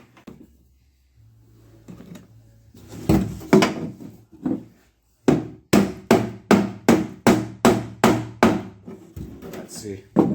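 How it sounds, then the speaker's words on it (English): Rivet heads on a 2003 Dodge RAM 3500 dually tailgate are hammered flat against a dolly: about ten sharp, evenly spaced metallic strikes, close and loud, after some quieter handling noise. "I'm gonna have to get a dolly and flatten these down a little bit."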